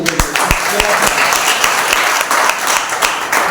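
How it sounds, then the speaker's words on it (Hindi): A congregation claps loudly for the mothers standing at a Mother's Day church service, with a dense run of hand claps and a voice talking over the applause. "जोरदार ताली बजाइए"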